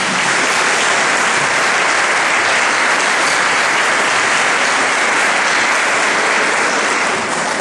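Warm welcoming applause from an audience at a parents' school evening as a speaker is introduced, loud, dense and sustained clapping with no voices.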